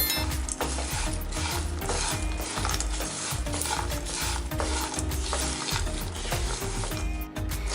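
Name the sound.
stirring poha chivda with spices in a pan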